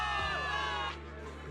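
A crowd cheers a victory in a Zenless Zone Zero cutscene, a loud sustained roar of many voices layered with music, easing off toward the end.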